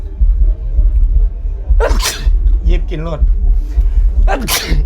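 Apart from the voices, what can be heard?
repeated sneezing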